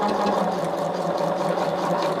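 A sewing machine stitches a quarter-inch seam down two aligned quilt strips on foundation paper, giving a steady, moderately quiet mechanical whir throughout with no talking.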